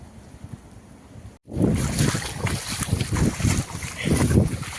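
Rushing, splashing water starts suddenly after a brief silent gap and keeps surging loudly and steadily, with a rough, wind-like roar.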